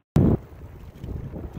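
Wind rushing past a moving car, a brief loud buffet at the start, then a steadier low roar.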